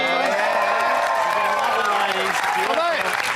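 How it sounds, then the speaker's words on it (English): A crowd applauds loudly and steadily, with cheering and a bright harmonic voice or music riding over the clapping throughout. "Big round of applause, too, for the Silver Foxy ladies."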